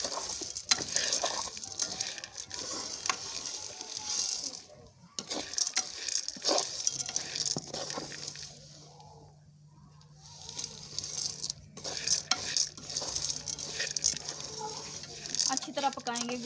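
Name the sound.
cooking and stirring roasted corn with jaggery in a pan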